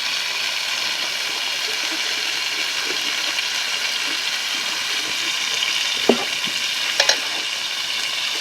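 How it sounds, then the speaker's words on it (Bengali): Country chicken pieces sauté in a pan, a steady moderate sizzle with a couple of sharp utensil clanks near the end and no speech. "এবার আমি ভালোভাবে মাংসটা কষে নেব।"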